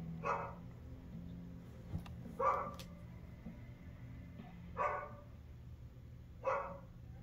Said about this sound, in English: Dog barking at mysterious door or basement door.